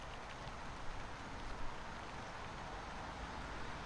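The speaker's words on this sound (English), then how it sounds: "It's not a heavy rain." Light autumn rain falling in a garden, an even, steady patter and hiss with a few slightly louder drips, close by and constant with no voices.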